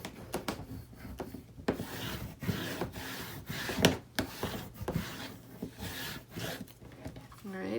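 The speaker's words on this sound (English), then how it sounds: "So just burnish that on really nicely." Paper on the spine of a handbound notebook is burnished with a tool, giving a series of close, irregular rubbing strokes and scrapes in bursts.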